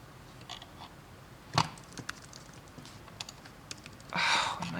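Quick, uneven keystrokes clatter on a computer keyboard nearby, with one sharper key hit and a brief louder burst of clicking near the end.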